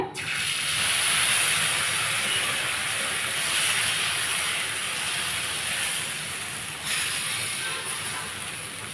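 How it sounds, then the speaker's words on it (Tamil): Dosa batter made with puffed rice hisses and sizzles steadily on a hot pan in a home kitchen, a broad continuous frying hiss that stays loud and even throughout with no voices. "அடுத்து இனி ஒரு தோசை ஊற்றிக்கலாங்க"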